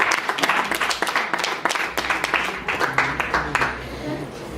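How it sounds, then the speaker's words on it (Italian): Lively applause from an audience at the Palafiori in Sanremo greeting a singer, quick overlapping claps with distinct sharp hand strikes, steady and fairly close throughout, easing off toward the end. "Un applauso."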